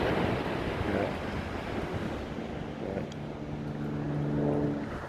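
Steady wind blowing outdoors near the ocean in the San Francisco area, a continuous broadband rush with faint low tones underneath, no talking.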